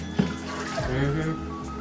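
Water pours into two measuring cups in a home kitchen, a short splashy trickle that mixes with a voice talking over it.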